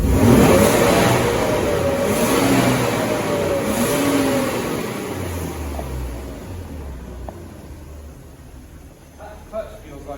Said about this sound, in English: Nice sounding car, isn't it?